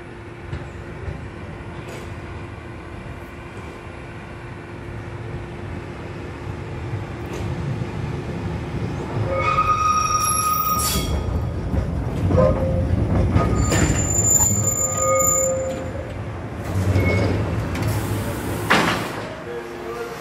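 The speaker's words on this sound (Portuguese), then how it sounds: "E olha o bonde chegando, ó." Santa Teresa tram arriving near the Arcos da Lapa in Rio de Janeiro, its rumble building as the wheels squeal loudly on the rails in several sharp bursts, with people talking nearby.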